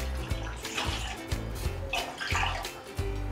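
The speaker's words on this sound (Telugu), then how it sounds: "ఇప్పుడు మనం పాస్తా బాయిల్ చేసుకోవడానికి 3 గ్లాసెస్ వాటర్ వేసుకొని" Three glasses of water poured into a cooking pot to boil pasta for a cheese pasta dish, sounding as a steady close splashing stream that gurgles and surges in repeated pulses.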